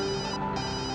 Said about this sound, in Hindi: फोन आया किसी।